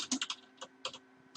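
Typing on a computer keyboard while filling a text box, a few close clustered bursts of key clicks separated by brief pauses, with no speech.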